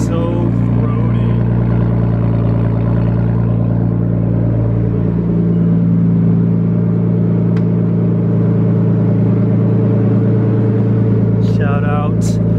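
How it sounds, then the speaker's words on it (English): Nissan R32 Skyline engine idling close by, a loud, throaty low rumble with steady harmonic drone and slight wavering, a voice speaking over it near the end. "The Skyline sounds gnarly. It sounds so throaty."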